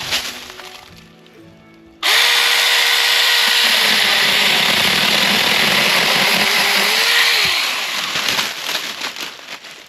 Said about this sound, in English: show you guys how well this little mini chainsaw will work on it as well